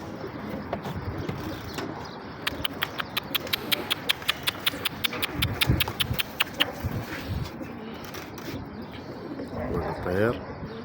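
Grey pigeon cooing close by, soft low coos amid a run of rapid regular clicks and background chatter, with someone talking over much of it.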